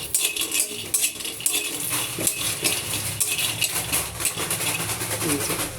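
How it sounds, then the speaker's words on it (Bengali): Bori lentil dumplings dropped into a kadai pan, with clattering metallic clinks and scraping in irregular bursts, fairly close, over a steady background hum. "কড়াইতে দিয়ে দিলাম কটা বড়ি, শুধু কড়াই দিয়ে দিলাম বড়িটা"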